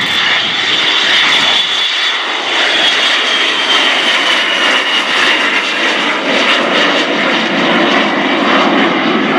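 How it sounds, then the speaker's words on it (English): Norwegian Air Force Historical Squadron de Havilland Vampire jets, a two-seat T-55 and a single-seat FB-6 fighter bomber, fly at an airshow with a loud, continuous jet roar that stays strong and shifts slightly in pitch as they pass. "Made up of a two-seat Vampire T-55, the equivalent of the RAF's Vampire T-11, and a single-seat FB-6 fighter bomber."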